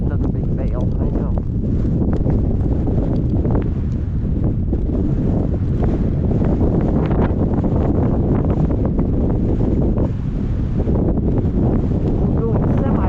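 Gale-force wind storm roaring across an open outdoor setting, a loud, constant buffeting rush with heavy microphone wind noise that never lets up.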